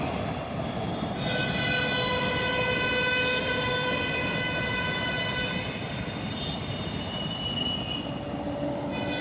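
A long freight train rolls through Shamsi station with a loud, steady rumble and clatter, while a sustained horn rings out over it from the second second onward.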